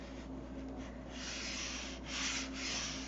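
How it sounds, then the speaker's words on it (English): Sandpaper rubs steadily across a wooden piece in a continuous close scratchy hiss, swelling slightly in long strokes, alone without talk. "And then to sand it all the way back off."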